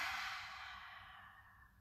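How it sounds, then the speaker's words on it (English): One long, soft exhaled breath during a yoga session, airy and close, fading steadily to quiet over about two seconds. "Nice big breath out."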